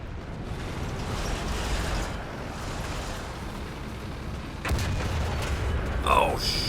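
The Sturmpanzer II's 15 cm sIG 33 gun fires in War Thunder: a sharp, heavy report over a rumbling engine and battlefield noise, followed by a faint mechanical clatter.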